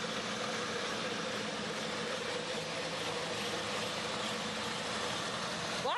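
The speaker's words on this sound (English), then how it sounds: "Here we got a couple more Farmall tractors." Farmall tractors rolling along in the 2009 Ste. Genevieve County Fair parade, giving a steady, continuous engine rumble with a low idling drone that holds at constant loudness throughout.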